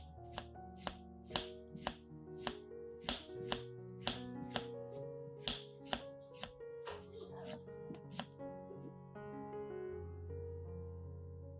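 A knife chops onions on a cutting board in quick, evenly spaced, crisp taps, about a dozen strokes close by, which slow and stop toward the end over a steady background tone, with no voices.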